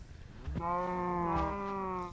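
A single drawn-out, harmonic moo from a cow in a farming video game, a bleating, slightly wavering call that rises in after a short thump and holds for over a second, fairly quiet and alone.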